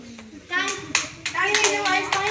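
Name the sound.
children clapping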